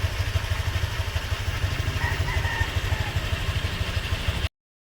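A motorcycle engine idling steadily with a fast, even low putter and light mechanical clatter, close and continuous for several seconds before cutting off, no voices.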